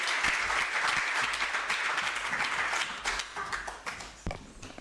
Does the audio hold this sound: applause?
yes